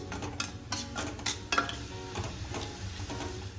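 A spinach Manchurian mixture with added sugar and salt is stirred in a pan, giving repeated soft scraping and clinking strokes in an uneven rhythm over a faint, steady background hum, with no talk.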